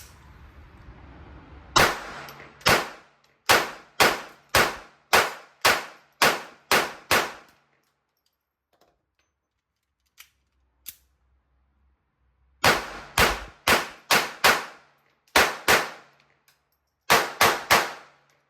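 Ruger LCP II pistol firing Federal Premium Hammer Down .22LR rounds: sharp, loud shots in quick rhythmic strings of about eight, with a long quiet gap and a couple of softer clicks before the next string and a final short burst.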